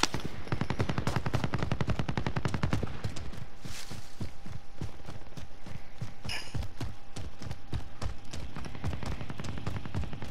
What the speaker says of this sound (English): They're shooting at him.